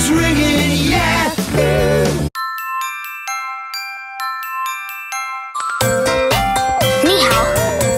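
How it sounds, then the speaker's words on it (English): A ringtone-style jingle of bright, tinkling chime tones in a repeating melodic pattern, loud and close, set between fuller musical passages with a sung voice. "Your phone is ringing"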